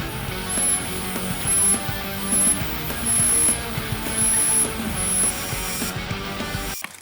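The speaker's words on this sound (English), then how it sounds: "Now let's work on rough grinding the edge." Power grinder roughing the edge bevel of a knife forged from coil spring steel, a steady loud gritty whine with rhythmic surges as the blade passes, stopping abruptly at the end.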